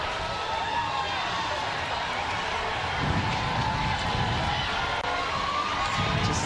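Crowd noise at the 2024 Chicago Pride Parade, a steady outdoor murmur with scattered cheering and voices, fairly distant and continuous, with people talking nearby over it.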